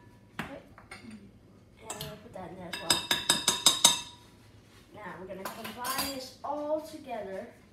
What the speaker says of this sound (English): Together using a spoon. Mix that together.